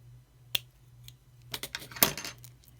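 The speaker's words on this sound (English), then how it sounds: "I'm going to snip this extra wire off." A single sharp snip cuts spare wire off a handmade pocket rosary, followed by light metallic clicks and small rattles as the piece is handled.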